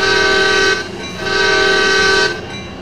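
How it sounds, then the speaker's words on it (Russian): In the Train Sim World video game, a CSX locomotive sounds two long, loud horn blasts on departure, separated by a short gap, over the idling engine. "в Америке, когда локомотив начинает движение, он дает два длинных сигнала"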